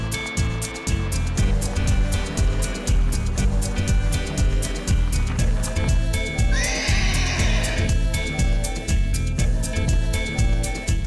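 Two rescued horses neigh and whinny loudly and close by, a long high call rising out of a steady, noisy outdoor background.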